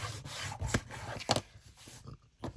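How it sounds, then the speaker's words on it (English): Double-sided tape burnished down onto a junk journal page, heard as short rubbing and scraping strokes with brief pauses, close and fairly quiet. "So I need the double-sided tape. And then just burnish up like that again."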